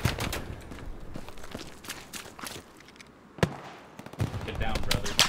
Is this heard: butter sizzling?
no